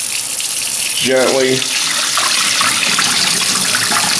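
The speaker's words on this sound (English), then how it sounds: "just put some water in" Tap water pours and splashes onto lentils in a pot for tarka dal, a loud steady gush lasting throughout, with a brief spoken word over it.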